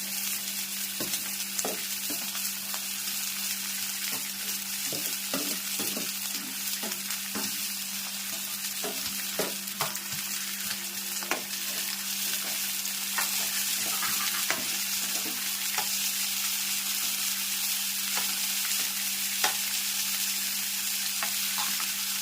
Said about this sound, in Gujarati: સરસ મજાનો મકાઈનો ચેવડો બની રહ્યો છે, આપ જોઈ શકો છો.